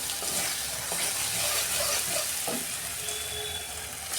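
Masala paste with mustard seeds frying in oil for a tilapia fish curry, a dense continuous sizzle with faint stirring underneath; loud and close, no speech.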